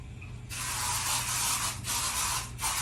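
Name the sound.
aerosol spray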